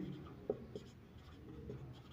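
Pen or pencil writing a number on paper while a maths problem is worked, with a few soft scratchy strokes and small taps, close and quiet over a low background hiss.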